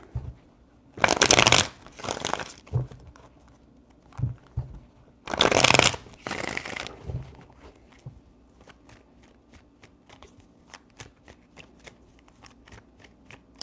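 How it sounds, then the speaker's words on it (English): Tarot cards shuffled in two loud, crisp riffling bursts with quieter handling and soft card taps between and after, close by with no talking. "Three shuffles."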